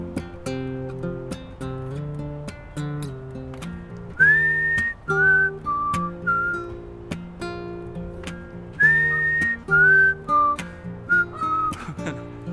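Melodic whistling rises above an acoustic guitar and vocal song in a Mahogany Session, in two sliding phrases repeated over a steady strummed backing.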